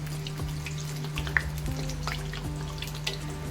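Chili fritters (mirchi vada) coated in gram flour batter frying in moderately hot oil, giving a steady low sizzle and bubbling with a few faint clinks and drips, no voices.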